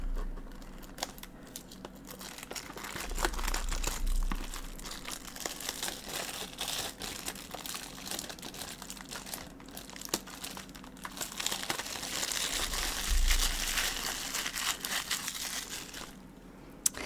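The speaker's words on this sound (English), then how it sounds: "So let's get those nice crinkles in." Plastic packaging on a box of Yu-Gi-Oh cards, Pharaoh's Servant 25th Anniversary Edition, is crinkled close up in a continuous crisp rustle that swells and eases, with no talk.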